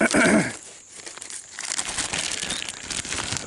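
A plastic bag crinkles loudly up close as foraged red berries are put into it, with a sharp burst at first, then a short lull and then steady rustling.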